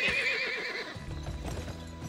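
A horse in the western video game GUN whinnies loudly and close, then gallops off with rapid rhythmic hoofbeats, no voices.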